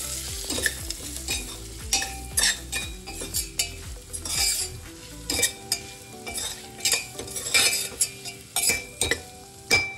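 Homemade black chili powder and Byadgi chili sauté in a hot pan with a continuous sizzle, punctuated by rhythmic scrapes and clinks of a spoon stirring against the metal.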